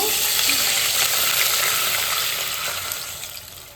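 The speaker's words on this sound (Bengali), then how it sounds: "তারপরে 1 লিটার দুধটা ঢেলে দেবো" A litre of milk is being poured into a pan of hot ghee for carrot halwa, making a steady rushing, gushing pour mixed with a light sizzle that tapers off toward the end.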